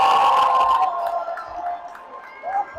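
The Anderson student section cheers at a boys varsity basketball game, a loud sustained crowd roar with shouting voices that swells at first and then settles into a lower din.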